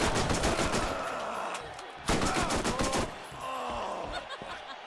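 Shotgun fire in the Borderlands Mad Moxxi Underdome arena, The Gully: sharp, close blasts arrive in quick bursts with a heavier shot midway, under a faint trace of voice.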